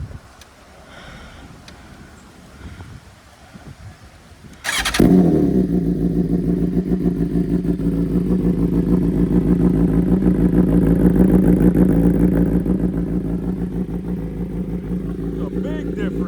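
A BMW S1000RR with an Arrow Pro Race titanium slip-on exhaust cranks with a sharp burst after some quiet rustling, then settles into a loud, close, throbbing idle that swells slightly before easing back.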